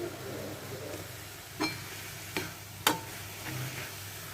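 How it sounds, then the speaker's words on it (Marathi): Onion fries in Amul butter for masala pav, a faint, low sizzle heard close up and broken by a few sharp taps and scrapes of a spatula against the pan. "सो आता अमूल बटरवरती हा कांदा जो आहे तो छान ब्राऊन रंगावरती फ्राय करून घ्यायचा"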